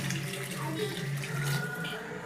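Water is poured into a sambar cooking pot holding brinjal, carrot, beans, turmeric and sambar powder, making a steady, close gushing splash that runs for about two seconds with no talk.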